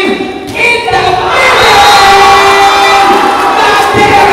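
Loud crowd roaring and cheering at an inter-barangay volleyball tournament, a dense sustained swell of voices that builds after the first second and holds steady.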